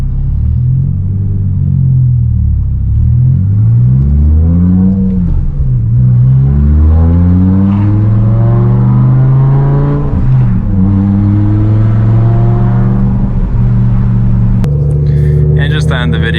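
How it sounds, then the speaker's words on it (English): A BMW E60 M5 fitted with a Dinan throttle booster cruising on the Autobahn, its loud interior engine drone rising and falling through gear changes, continuous and close. "We're on the Autobahn right now."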